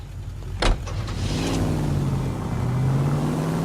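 A commandeered car in LA Noire starts with a sharp thump, then its engine hum drones steadily and rises slightly in pitch as it drives off. No voices.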